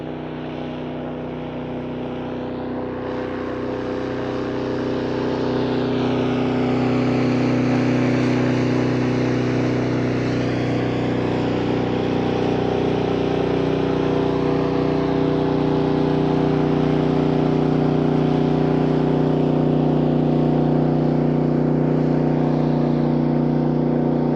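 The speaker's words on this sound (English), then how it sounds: "Airboat to go by, and they are pretty loud" An airboat on open water drones past loudly, its deep engine roar swelling over several seconds and then holding steady and heavy.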